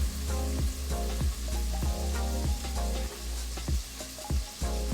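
Tomatoes for spaghetti bolognese sizzle and simmer in a pan, a steady loud frying hiss with recurring bursts of stirring and bubbling, no voices.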